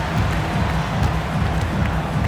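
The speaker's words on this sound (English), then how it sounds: "this crowd is in awe of that Mitchell dunk" Arena crowd noise from NBA 2K25 during a Mavericks versus Cavaliers game, a steady dense roar of cheering that stays loud and even throughout after a dunk, with no distinct voices standing out.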